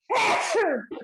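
A single loud, abrupt sneeze close to the microphone, followed by a brief breathy trailing sound.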